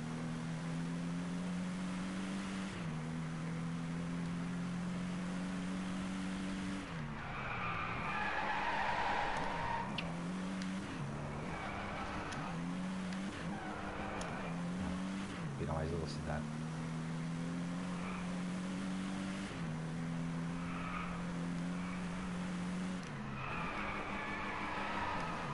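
A car drifts and skids in the racing game Driveclub: a loud droning engine with a long tire squeal that rises and falls through the turns, and a voice occasionally speaks over it.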